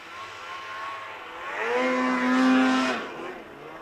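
A snowmobile engine revs up sharply and climbs in pitch during a re-entry jump, swelling loud for about a second before easing off, heard fairly close.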